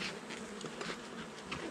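Honey bees buzz in a steady, dense drone during a hive inspection, the hum close and continuous with slight swells in loudness.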